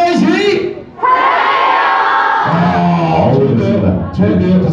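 A live radio-show audience shouts a call-and-response chant in unison, loud, close and sustained crowd voices rising and falling across the clip.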